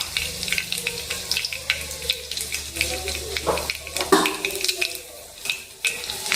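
Two garlic cloves and half a spoon of asafoetida crackle in well-heated oil, a steady close sizzle with scattered pops and a few clinks of a utensil under it.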